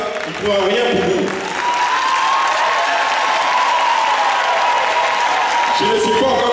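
A conference crowd in Benin applauds in a sustained, loud roar of clapping and crowd noise, with a speaker's voice heard over it near the start and again near the end.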